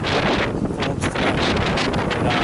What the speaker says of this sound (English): windy today, as you can probably hear